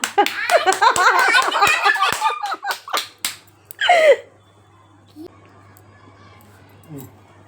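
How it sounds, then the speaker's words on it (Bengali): At a family birthday celebration, a quick run of hand claps comes close and fairly loud, mixed with voices and excited vocal sounds, then fades to near quiet with only a few faint noises. "এ হাততালি দাও মা, হাততালি দাও"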